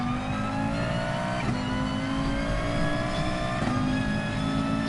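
A Group B race car roaring in the GT Sport racing game, its engine revving steadily and climbing through gears with brief shift dips, loud and close throughout.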